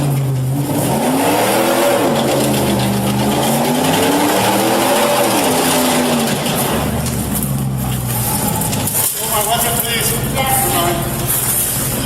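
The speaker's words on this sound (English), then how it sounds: "Despite being stuck, the engine kept revving, and the spinning tires created thick smoke as they scraped the pavement." A stuck car's engine revs hard while its tires spin on pavement, the pitch rising and falling in repeated surges, loud and continuous, with voices talking over it.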